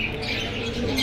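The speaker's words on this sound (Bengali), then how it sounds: "এগুলো খুব ভালো লাইনের কবুতর" Pigeons at a bird market make a short burst of soft cooing and chirping, fairly close and steady for about a second.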